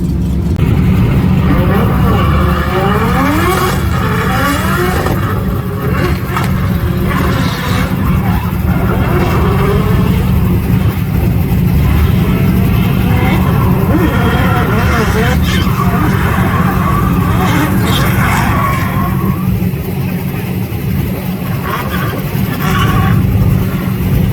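A race car in Klutch Kickers Round 2 Friday practice runs a lap on track, its engine droning loudly and continuously, rising and falling through gear changes as the driver talks over it.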